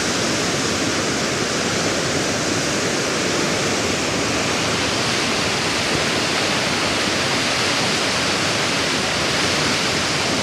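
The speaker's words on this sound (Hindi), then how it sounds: "आवाज़ है ना, असल आवाज़ है दरिया कुनार की" Loud, constant roar of the fast-flowing Kunar River, dense and unbroken throughout with no pauses.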